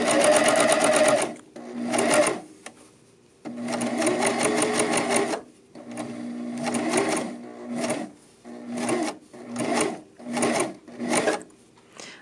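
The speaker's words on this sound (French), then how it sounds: "ce que je veux faire, c'est de revenir coudre environ pendant 1 pouce sur ma couture" A sewing machine running a chain-stitch seam on a raglan sweater, loud and close, in a long steady run followed by several shorter stop-start bursts.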